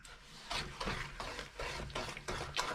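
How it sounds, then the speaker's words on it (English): Spoon stirring 1.4 kilograms of sugar into sour cherry jam in a pot, a steady series of scraping, swishing strokes about every half second, close and moderately quiet with a faint sizzle underneath. "We'll give that a stir, get all that dissolved."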